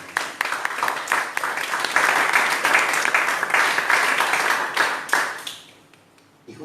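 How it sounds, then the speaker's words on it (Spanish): A church congregation applauds together, a dense wash of hand claps with sharper individual claps poking through, holding steady for several seconds before quickly tapering off near the end. "¿Cuántos dan un aplauso al Señor?"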